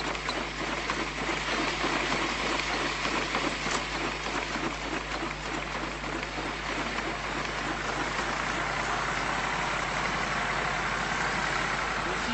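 A low tractor engine drones steadily throughout, rumbling without change, mixed with a rain-like hiss and some faint clatter.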